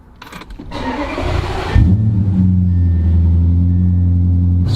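An Audi R8 V8 engine starts with a sharp catch, then settles into a steady, deep, close idle rumble that holds evenly to the end.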